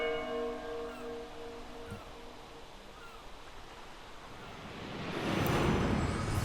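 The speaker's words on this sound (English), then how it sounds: "A bell." A bell rings out in the Lost Odyssey video game, its tolling tones fading away over a soft wash of noise that swells louder near the end.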